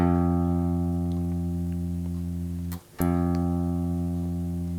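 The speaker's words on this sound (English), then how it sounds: "I'm just going to play a couple of notes quickly now, the same note, just so you can hear it." A sustained guitar note rings steadily, is briefly cut off, then is plucked again and keeps ringing, close and clear.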